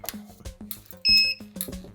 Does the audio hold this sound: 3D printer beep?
yes